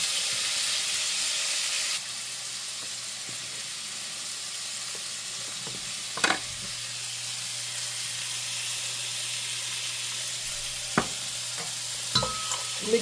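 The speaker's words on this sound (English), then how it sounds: "Mix that up in the grease so it doesn't burn, but we do want to bloom it." Paprika frying in grease for a bean soup, a soft steady sizzle and hiss with a few sharp clinks of a spoon stirring the pan, fairly quiet and with no talk.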